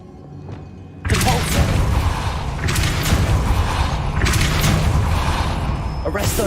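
A spell cast in the video game Hogwarts Legacy: a loud, dense burst of blasting and thumping force kicks in after a brief quiet start and holds with rolling surges through the rest.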